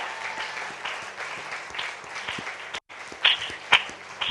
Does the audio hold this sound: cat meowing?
no